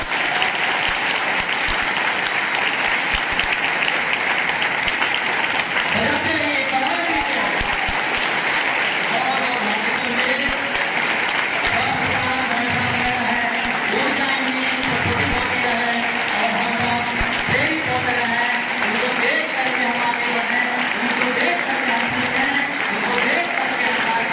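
An audience at a school function at Saraswati Shishu Mandir, Pakkibag, gives loud, continuous applause, a dense wash of clapping that holds steady throughout while a voice speaks over it through a PA system.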